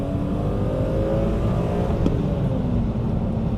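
A BMW E34 M5 engine runs as a loud, steady, close rumble, with its pitch rising slowly across the clip and no talk over it.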